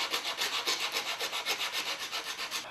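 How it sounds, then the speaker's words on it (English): A wooden router bowl is sanded by hand with 80 or 100 grit sandpaper, giving a close, rhythmic rasping rub in quick, even back-and-forth strokes with no voices. "Getting rid of all the burn marks, softening the edge."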